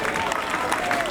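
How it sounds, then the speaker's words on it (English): Football fans in a stadium applauding a substituted player, a brief wash of crowd clapping and noise at moderate distance, with commentary voices over it. "All the fans are giving him a round of applause for a very good game"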